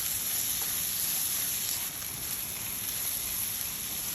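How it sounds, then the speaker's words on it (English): Butter melts in a pan with a steady, even, hissing sizzle throughout, moderately loud and unbroken, with no voices. "So we're gonna get the butter melted completely first."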